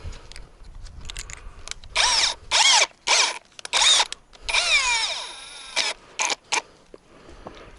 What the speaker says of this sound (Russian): примерно делаем отверстие.